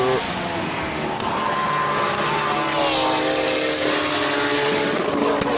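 Hillclimb race car with a 4-litre V8 engine and apparently little or no exhaust, a loud sustained roar heard from nearby at the track, steady and continuous with a rising tone.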